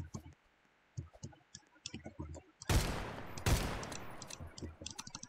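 Roblox game gunfire: sparse clicks and light taps, then two loud, dense bursts of shots in quick succession, followed by scattered clicking.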